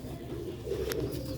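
Ferozpuri pigeons, an old rare breed, coo in a low steady murmur close by, a soft continuous throaty rumble with a brief higher flutter partway through.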